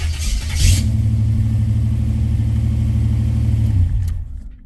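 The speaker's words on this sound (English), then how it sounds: "I'm going to start the car." A car engine cranks and catches with a short burst, then settles into a steady idle hum before cutting off near the end.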